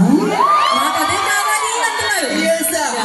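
An audience at an Ugadi awards event in Sri Vijaya Puram, Andaman, erupting in loud cheering, whoops and shouts for a guest, a dense close crowd roar sustained throughout.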